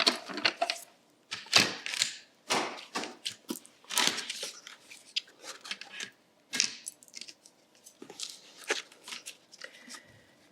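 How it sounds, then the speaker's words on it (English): Dies and cardstock run through a die-cutting machine, making a string of irregular, fairly quiet clicks and clacks with short gaps between them. "just run them through the machine all at the same time."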